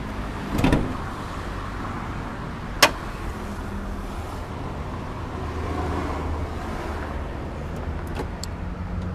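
A Ford Ranger pickup's engine hood being opened, with a muffled thud and a sharp metallic latch click early on, then faint handling clicks over a steady outdoor hum.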